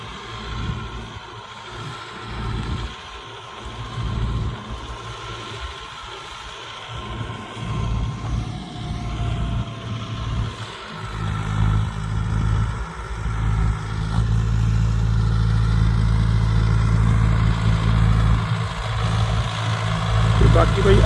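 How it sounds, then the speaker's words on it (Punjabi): A steady low tractor engine rumble idles throughout, growing slightly louder in the second half, with occasional voices over it. "ਅਰਜਨ ਟਰੈਕਟਰ ਤੇ ਆਪਣੀ ਮਸ਼ੀਨ ਚੱਲਦੀ ਹੈ"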